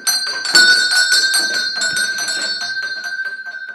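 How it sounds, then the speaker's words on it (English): Old room call bells in an abandoned care home ring out in a bright, sustained tone over a steady run of light metallic strikes, fairly close and loud, with no talking. "All the different bells for each room."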